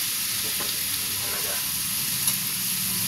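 Water spinach stems cooking in a pan are stirred with a spoon over a constant loud hiss of frying, with faint scraping strokes and one small clink.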